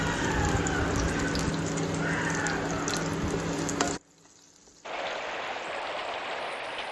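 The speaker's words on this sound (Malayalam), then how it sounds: "ചെറുതായി അരിഞ്ഞ വെളുത്തുള്ളി ഇട്ടതിന് ശേഷം വഴറ്റിയെടുക്കുക" Chopped garlic sautés in hot oil with a loud, crackling sizzle that drops out abruptly for a moment, then resumes at a steady level.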